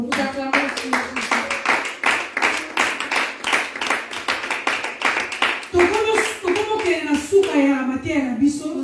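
A church congregation claps in a fast, steady rhythm, many hands close and loud, with voices calling out over the applause toward the end.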